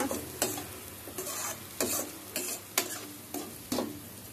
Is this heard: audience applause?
no